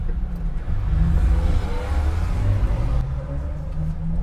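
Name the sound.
car driving past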